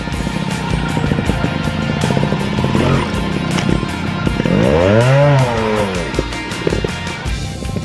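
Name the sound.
trial motorcycle engine during a sideways turning manoeuvre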